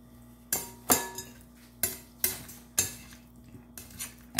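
A utensil stirs strawberry gel mixture in a bowl, giving about eight sharp scraping clinks at an uneven pace, close and fairly loud, with no talking.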